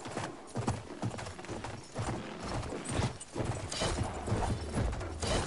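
A horse in Battlefield 1 gallops across the battlefield, its hoofbeats a rapid, rhythmic drumming that is fairly near and steady, with occasional louder surges mixed into the game's background noise.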